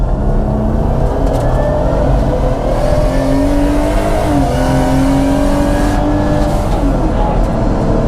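A turbocharged 500 hp Audi A5 with a VR6 engine pulls hard on a race track, its loud engine drone climbing steadily in pitch through the gears, close and continuous with brief dips at the shifts.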